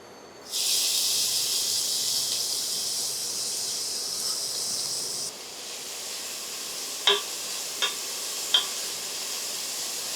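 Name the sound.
sautéing chopped onions in a pan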